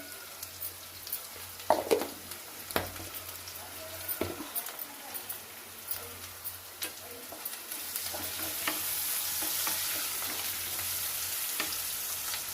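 Bottle gourd curry with turmeric fries in a pan, a soft steady sizzle punctuated by sharp spatula taps and scrapes early on, the hiss swelling louder and brighter toward the end.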